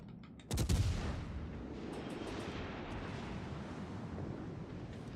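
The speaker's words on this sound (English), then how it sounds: "Literally shot at me every single volley" Heavy gunfire in a video game, a loud burst of volleyed shots hitting hard at the start and then settling into a sustained rumbling roar of continuous fire and wind-like noise.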